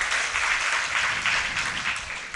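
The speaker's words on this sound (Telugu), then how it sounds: "చప్పట్లు కొట్టి దేవుని స్తుతిద్దాం." A church congregation claps hands together in praise, a dense, steady wash of many hands close by, continuing evenly without a break and with no voices over it.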